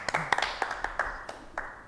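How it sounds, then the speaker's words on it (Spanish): Sparse hand claps on a Paraguayan football talk show set, a handful of individual sharp claps spaced irregularly and fairly close, thinning out toward the end. "aplauso por eso también"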